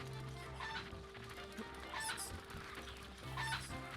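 A cucco chicken in a Zelda video game clucks in repeated short bursts over a steady game soundtrack, fairly close and moderately loud.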